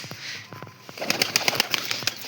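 White-eyed Malwai pigeons flap their wings as they fly down, with a flurry of quick, close wingbeats and soft rustling growing busier and louder toward the end.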